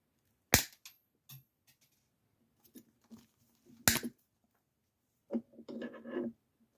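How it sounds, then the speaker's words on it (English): Cutters snip plastic parts off headlight retaining clips for LED projector headlights on a Corolla, producing a few sharp, close snaps with short rustling handling sounds between them. "So I'm going to just snip these off."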